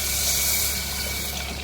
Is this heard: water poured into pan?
yes